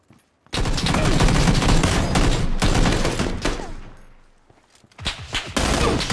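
Sustained gunfire in the video game PUBG, a loud dense fusillade that runs for several seconds, fades, then returns in sharp bursts.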